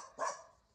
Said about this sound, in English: you are barking